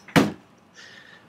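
A door shuts in a TV newsroom with a single sharp thud, followed by a faint fading rustle.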